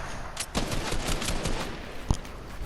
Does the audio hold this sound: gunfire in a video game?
yes